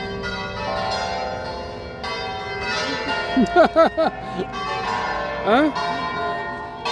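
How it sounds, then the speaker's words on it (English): A bell rings out as a local attraction, ringing tones recurring under background ambience, while a few brief vocal sounds and a short exclamation break in partway through. "I guess this nice bell is some local tourist attraction, so enjoy it"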